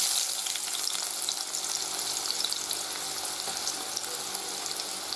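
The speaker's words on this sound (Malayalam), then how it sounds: "ഇനി ഇതിലേക്ക് നമുക്ക് ഒരു 1/2 സവോള നൈസായിട്ട് കട്ട് ചെയ്തത് അതും കൂടി ഇട്ടിട്ട് വറുത്തെടുത്ത് വെക്കണം." Finely sliced half onion frying in hot oil for a Thalassery rava chicken biriyani, a dense, steady close-up sizzle with crackling spits that carries on without a break.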